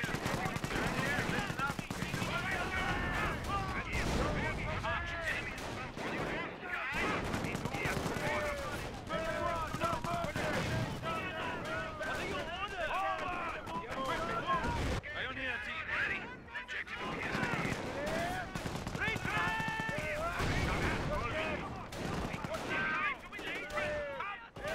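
Gunfire in the World War II strategy game Company of Heroes, dense and loud throughout: rapid machine-gun bursts and rifle shots overlapping with heavier artillery-like blasts, with game voices and battle chatter mixed in.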